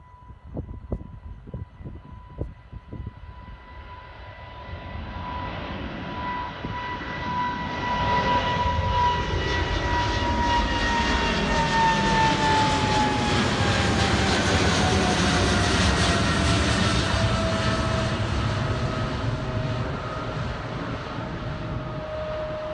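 A British Airways jet departs from Bermuda with a rising, roaring engine rumble that swells to a broad, loud peak. The roar then holds steady with a shifting whine as the aircraft climbs away.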